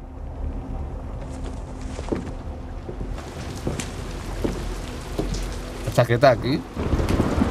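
Steady rain patters down in the horror video game Supernormal, a constant hiss with occasional low rumbles and thumps, while a voice speaks briefly over it.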